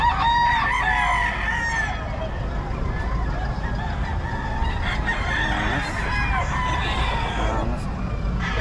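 A gamecock rooster crows loudly up close, with further clucking and fowl calls following over steady background noise, while people talk nearby.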